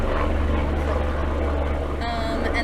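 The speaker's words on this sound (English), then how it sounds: "There's a helicopter." A helicopter flies overhead beside a pool, its steady low engine and rotor drone continuous and fairly loud throughout.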